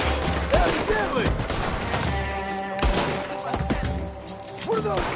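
Gunfire in a Red Dead Redemption 2 shootout: a dense, loud barrage of shots and impacts under tense game music, with voices speaking over the fighting.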